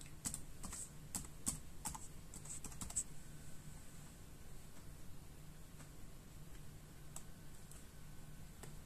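Quick keystrokes on a Dell Latitude E5420 laptop keyboard while setting a password, a burst of crisp clicks in the first few seconds, then sparse faint taps over a low steady hum.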